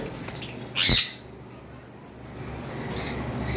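A pet parrot at a bird shop selling lovebirds, cockatiels and conures lets out one loud, harsh squawk close by, against a faint background hum and chatter.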